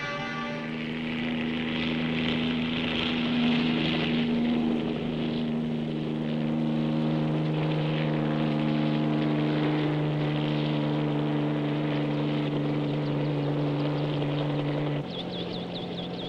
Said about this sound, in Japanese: 赤城防衛庁長官も名古屋を訪れ、ヘリコプターで災害地を視察しました